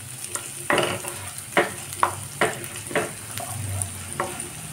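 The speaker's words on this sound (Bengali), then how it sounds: "জিরেটাও ভালো করে নেড়ে নেব।" Cumin seeds fry in hot oil with a constant sizzle while a spoon stirs them in a series of sharp scraping strokes, close up with no talking.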